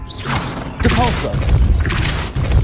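A Depulso spell cast in Hogwarts Legacy lands as a punchy magical blast with a thumping boom and whooshing burst, followed by further impacts, while a voice speaks over it.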